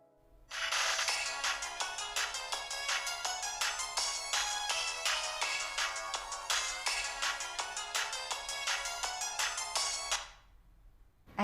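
A phone rings out while a call is being placed, a melodic ringtone that repeats steadily for about ten seconds and then stops, with no voices.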